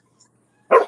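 A dog gives one short, sharp bark, close and loud, after a brief moment of near silence.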